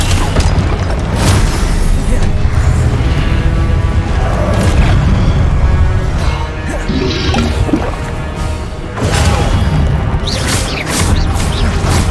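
Confringo blasting spells bursting in Hogwarts Legacy, loud booming explosions layered over dense game effects and music, with a brief lull before the blasts surge again near the end.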